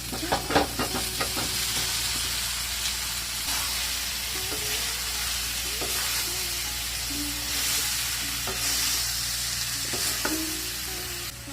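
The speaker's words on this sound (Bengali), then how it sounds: "কড়াইয়ের ভিতরে কলেজিগুলোকে দিয়ে দিচ্ছি" Beef liver frying with ground spices in a wok produces a loud, continuous sizzle and hiss, broken by repeated scraping and tapping from stirring, heard close and alone.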